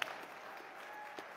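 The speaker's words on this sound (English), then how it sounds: "Yeah, there's one or two people clapping." Sparse, faint clapping from one or two people in an audience at a talk about farming and irrigation water, a few scattered claps in a quiet room.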